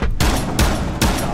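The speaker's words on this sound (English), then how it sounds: "I shot him so many times" Three loud bursts of gunfire from Rainbow Six Siege, each a sharp blast with a short decaying tail, arriving at roughly half-second intervals, close and dense, with no voices.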